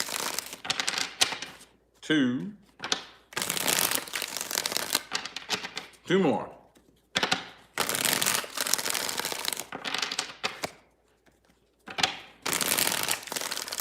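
Deck of tarot cards being shuffled repeatedly in dense rapid riffling bursts separated by short pauses, with someone talking and counting between the shuffles.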